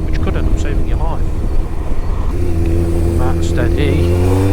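A Honda CBF 1000 motorcycle exhaust rasps while riding on the road, a steady droning engine note with wind roar that rises in pitch as it revs, with a rider talking over it.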